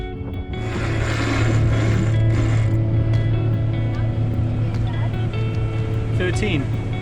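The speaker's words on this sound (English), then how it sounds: "we lower the sails and turn on the engines for some narrow channel navigation" A steady, low boat engine drone runs throughout as a sailboat motors through a narrow channel, with splashing water and wind mixed in and a voice speaking faintly in the background.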